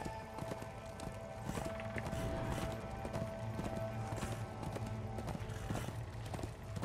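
Rhythmic hoofbeats of a galloping horse in the video game Darksiders II Deathinitive Edition, with a steady clip-clop pattern layered over game background sounds and continuous ambience.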